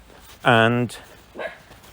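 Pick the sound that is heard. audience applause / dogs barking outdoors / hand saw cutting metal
dogs barking outdoors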